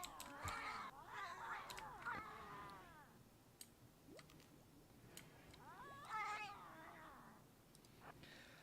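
A group of angry cats in RimWorld fighting five people with heavy SMGs, heard as bursts of yowling meows and caterwauls near the start and again later, with scattered faint clicks between and no voices.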